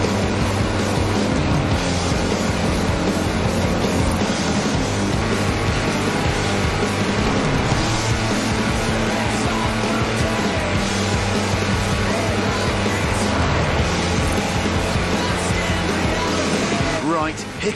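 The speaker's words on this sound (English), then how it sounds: "That's a new tractor speed record and some impressively fast farming." A tractor on four-inch mud tyres racing flat out in Forza Horizon 4, a loud, continuous engine roar holding steady for the whole stretch, with a sudden drop at the very end.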